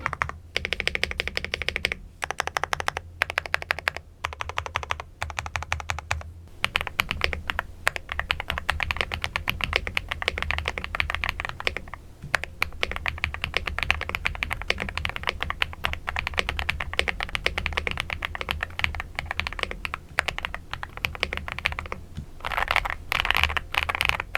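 Steady, rapid clacking of an AULA F99 Pro mechanical keyboard, close and crisp, with brief pauses between bursts of typing.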